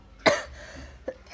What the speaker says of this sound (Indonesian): pemateri sekarang lagi batuk